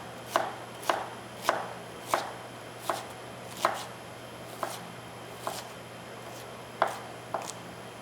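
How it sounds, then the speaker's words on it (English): A knife dices an onion on a cutting board in about a dozen crisp, evenly spaced chops, close and fairly quiet with soft room hum between strikes, no talking. "I'm going to go through and cut dices of my onion"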